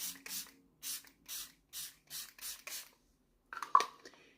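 Primer and setting spray are misted onto a face in a rapid series of about eight short, close spray bursts, followed after a pause by softer rubbing and handling sounds.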